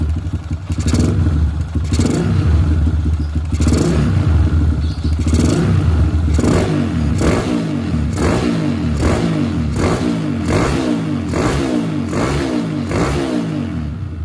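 A motorcycle fitted with a repaired PWK 28 CPO N-Racing carburetor revs loudly and continuously up close, its engine rising and falling in a quick series of repeated throttle blips.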